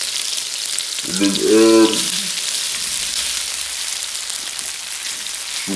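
Onions sizzle hard in a hot pan, a loud continuous bright hiss filling the whole stretch, with a brief voice speaking over it early on.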